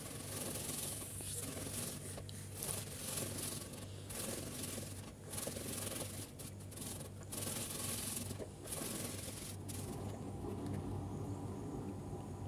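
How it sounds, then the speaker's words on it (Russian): Radish is rubbed steadily against a hand grater, a continuous close scraping rasp with brief pauses between strokes. "Берем терочку, начнем с редиски."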